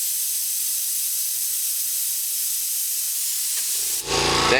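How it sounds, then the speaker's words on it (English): Air compressor of an RYO EZ-Fill cigarette-tube filling machine starting up near the end, a low broadband motor roar arriving after a steady high hiss that fills most of the clip. "I'm going to let this go for a minute until the compressor comes on, so that you get a chance to hear the noise level of the compressor"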